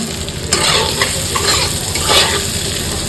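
Fish fries in a pan with a loud, steady sizzle, broken by several scraping stirs of a utensil close by.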